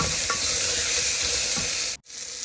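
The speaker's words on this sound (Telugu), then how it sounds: "జింజర్ గార్లిక్ పేస్ట్ ఫ్రై అయ్యే వరకు, అంటే పచ్చివాసన పోయే వరకు బాగా ఫ్రై చేసుకోవాలి." Ginger garlic paste fries with a steady, close sizzle in a pan while it is stirred, with faint scraping, then a brief gap before the sizzle resumes.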